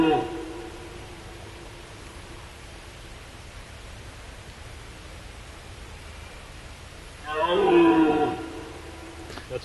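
A buck deer at night in foggy Northern California lets out a single rough, drawn-out call near the end, rising above a constant background hiss.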